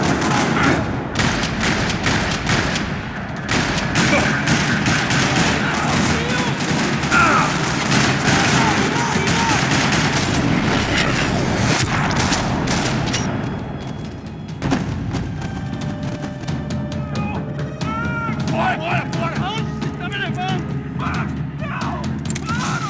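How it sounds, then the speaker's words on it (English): Heavy gunfire in a parking lot in the video game Max Payne 3: rattling bursts of automatic fire and thudding shots, dense and loud throughout, later thinning as voices and other game sounds come in. "Another parking lot rattling with gunfire"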